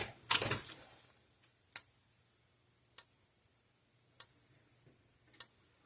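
A Gallagher E12/B150/B160 electric fence energizer under repair ticks with sharp, evenly spaced pulses about once every second, each a crisp snap with a brief ringing tail, following an initial louder burst of crackle.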